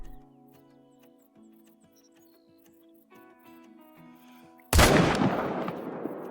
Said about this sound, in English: I guess we'll go for him with the M1